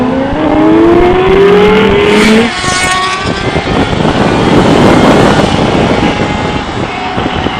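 A motorcycle launches in first gear with its rear wheel spinning, the engine screaming upward in pitch, then a loud, rough roar of sustained acceleration and rushing wind dominating close by.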